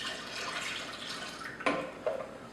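Water poured into a bowl of beaten eggs and milk for an Italian batter, a soft steady liquid trickle with a couple of faint clinks near the end, no voices.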